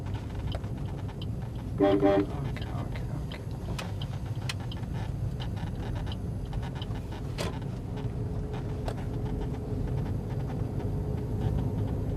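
A car horn gives a short toot from inside a moving car during a driving lesson, set against a steady low engine and road rumble with a few faint clicks.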